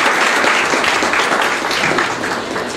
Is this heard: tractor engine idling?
no